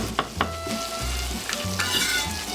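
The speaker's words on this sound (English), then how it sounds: "our butter is now nicely browned, and we are ready to lay our fish in there" Pollock fillets sizzle steadily in browned butter in a pan, with a few sharp crackles and spatters early on, then a continuous close frying hiss with light utensil clinks.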